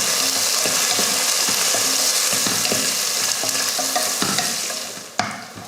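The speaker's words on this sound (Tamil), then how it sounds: "இப்போ இதை நல்லா பொன்னிறமாக வதக்கி எடுத்துக்கலாம்." Sliced onions and green chillies sauté in hot oil for chicken biryani, giving a steady loud sizzle with repeated spoon-stirring scrapes and clacks, ending on a sharp knock.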